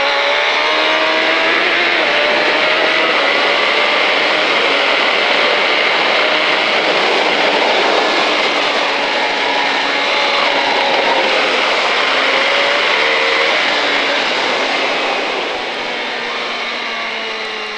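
A 2005 KTM Superduke motorcycle accelerates hard on a race track, a loud continuous engine roar heard from on board with wind rush, holding high revs and easing slightly near the end, with no talking.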